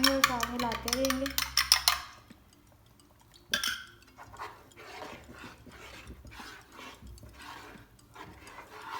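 Beaten eggs stirred into a pot of homemade chicken hot and sour soup: clinking and scraping of a utensil against the pot at first, then softer, irregular stirring sounds close by.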